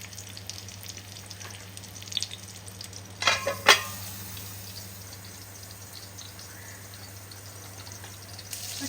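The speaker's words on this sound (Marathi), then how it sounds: "चिकन फ्राय बघा आपले लॉलीपॉप मस्त शिजतात" A soft, continuous sizzle of egg-battered chicken lollipops shallow frying in a pan, with a couple of brief utensil clinks around the middle.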